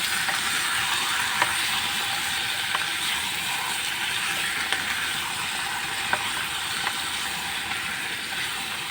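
Half a kilo of chicken for pineapple chicken adobo sizzles in a hot pan, a steady, close frying hiss with a few faint scraping clicks from stirring.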